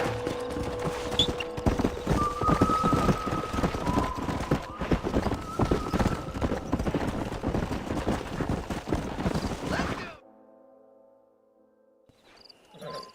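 Hooves clip-clop at a steady galloping rhythm in Red Dead Redemption (PC), over a busy game soundscape with tonal music and crickets, then cut to near silence with faint tones.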